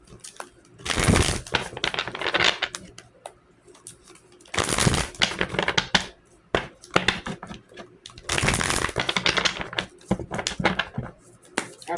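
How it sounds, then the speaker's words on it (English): Tarot cards shuffled hard in quick, crisp riffling bursts, three loud flurries spaced a few seconds apart with softer rustling and handling between them, close up. "I'll be shuffling the hell out of these cards, y'all."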